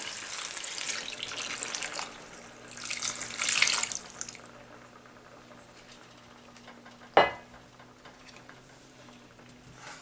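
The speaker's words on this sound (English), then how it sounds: "add 1 cup hot water" Hot water poured from a cup into a pan of boiled potatoes and spices for a hing aloo curry, a steady splashing pour for about four seconds, then quiet with one sharp clatter near the end.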